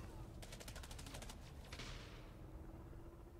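Rapid bursts of automatic gunfire in Elite Dangerous: Odyssey, a quick run of sharp evenly spaced shots followed by a whooshing blast, fairly faint over a low steady hum.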